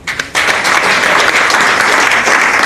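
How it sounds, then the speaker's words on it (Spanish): Loud, close applause from a conference audience honoring a professor at a lecture series, starting with a few scattered claps and then swelling into steady dense clapping that continues without talk. "Un fuerte aplauso para el profesor Argenis Díaz."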